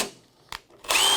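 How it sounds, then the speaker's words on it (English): A power drill drives a screw into basement framing lumber, a short burst near the middle followed by a loud sustained whine at the end, close up with no talking. "If you drive your screws like that"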